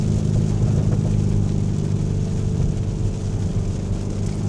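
A Lamborghini Urus engine drones with a deep, steady rumble from inside the cabin as it downshifts, a sustained low growl with little change in pitch and no voices.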